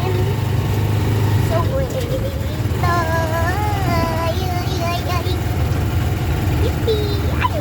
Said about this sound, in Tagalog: So guys, yung tricycle namin